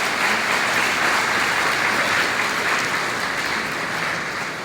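Dense, steady applause from a workshop audience at a DevFest tech conference in Tashkent, a continuous wash of many hands clapping at even loudness throughout.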